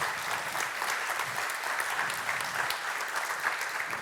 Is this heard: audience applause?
yes